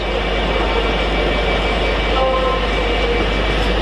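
A semi-loaded freight train passes through Doncaster station on the East Coast Main Line with a loud, steady rumble and rolling noise throughout.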